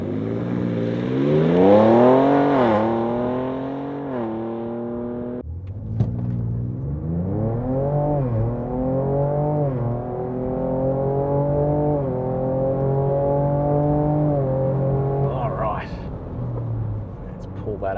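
A pickup truck engine revs and climbs steadily through several gear changes, accelerating hard, with someone talking over the rising drone.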